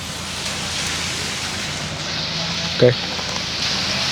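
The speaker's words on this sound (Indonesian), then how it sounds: "Udah nyampe dulu, baru hujan." Rain falls as a steady, fairly loud hiss around a stopped motorcycle at the end of a touring ride to Sumedang. A voice speaks once briefly over it.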